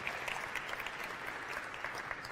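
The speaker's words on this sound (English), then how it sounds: "a big round of applause for our friends from the 30th Space Wing." Brief, faint applause from a small audience at a press briefing for a Mars lander launch, with even, steady clapping lasting a couple of seconds.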